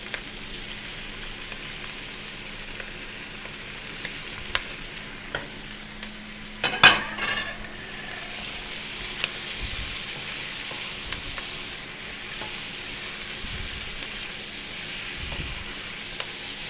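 Streaky bacon frying in a hot pan, a constant close sizzle and hiss that swells after a sharp clatter as it goes in, then stirring scrapes now and then, with no voices.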